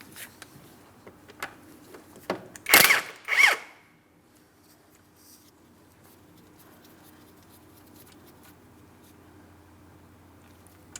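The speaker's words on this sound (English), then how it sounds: "I'm using a 17mm for my mounting nut." Two quick bursts of a power tool whir briefly, driving a 17mm socket on an outer tie rod mounting nut of a 2004-2008 Pontiac Grand Prix, then stop, leaving faint background noise and occasional light clicks.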